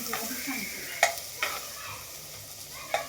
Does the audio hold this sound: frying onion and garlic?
yes